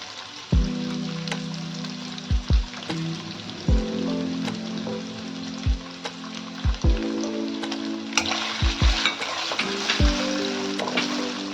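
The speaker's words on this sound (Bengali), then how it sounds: "পনিরগুলোকে প্রথমে একটু ভালো করে ভেজে নিতে হবে।" Paneer fries in a pan with a steady close sizzle. Repeated dull knocks of a spatula or pan being moved break in at irregular moments, and there is no talk.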